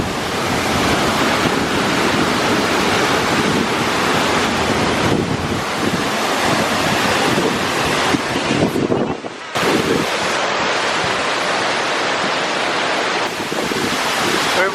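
A powerful waterfall on a Spanish Pyrenees hiking trail roars loud and close beside a small bridge, a dense, unbroken rush of water, with brief gusty wind buffeting and a momentary dip near the middle.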